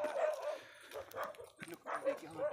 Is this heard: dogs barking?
yes